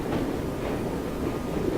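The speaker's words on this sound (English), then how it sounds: "That's the train." A steady, close rumble of a moving train in Victorian London, heard during a ride in the Assassin's Creed Syndicate video game. The clattering noise is continuous, with no talking.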